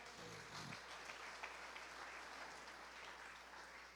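Congregation applauding during a church sermon, a steady wash of clapping from a crowd that holds at an even level for several seconds without talk.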